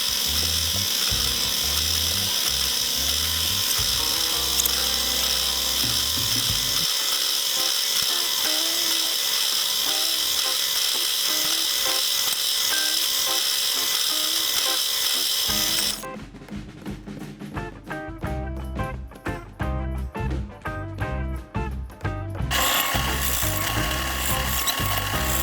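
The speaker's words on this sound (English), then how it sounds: "I'm just going to centre punch them and pilot them with a 3mm drill" A 3mm drill bores pilot holes for a homemade wood gas camping stove, with a buzzing power-tool whine that runs in spurts and changes pitch as it cuts, interrupted by quieter stretches.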